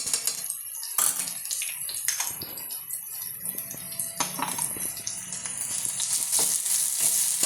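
A pan of seasoning fries for snake gourd chutney, its close crackling sizzle running steadily under sharp clicks and knocks of a spoon stirring, building slightly louder toward the end.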